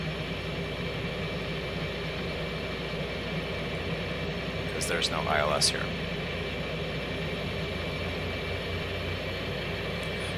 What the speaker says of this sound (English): So we're going to slow the plane down and configure it for landing.